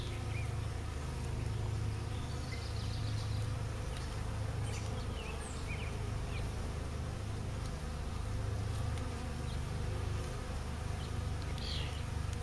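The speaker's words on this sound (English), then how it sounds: "Bees are not paying any attention to me whatsoever." Dense, continuous buzzing of many honey bees swarming close around a hive, steady and unbroken throughout.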